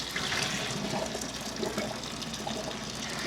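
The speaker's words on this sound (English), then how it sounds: "We're going to drain the water out." Boiled potato water pours from a pot into a strainer, a steady, close rushing gush of liquid that continues evenly throughout.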